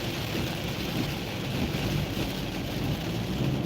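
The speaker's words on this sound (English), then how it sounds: "But it's starting to rain harder." Heavy rain drums steadily on a car while driving through rainy traffic, a dense, continuous wash of hiss and low rumble that stays loud and even throughout with no talking.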